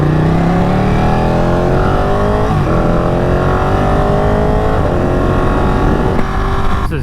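A Ducati Panigale sport motorcycle accelerating hard, its engine note climbing steadily through several gear pulls, loud and close throughout with constant wind and road noise.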